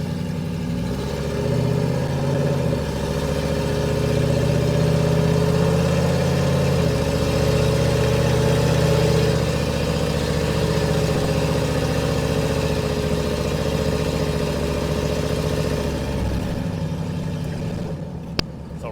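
A cammed Chevrolet Silverado 5.3L V8 with long tube headers idles loudly and steadily with a deep, lumpy exhaust rumble that holds for most of the stretch before easing off near the end, with no talking.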